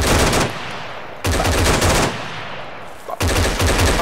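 Loud, close bursts of automatic gunfire in a video game, three sustained rattling volleys separated by brief pauses.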